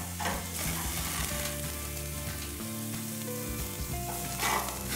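Steaks sear in a pan with a dense, steady sizzle, close and continuous, over faint tonal background sound, with brief swells of spitting fat.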